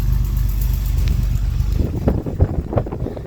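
A 1984 Chevy Citation idling without a muffler, a loud low rumbling drone with pulsing exhaust beats, then wind buffeting and shifting noise as the microphone moves around it.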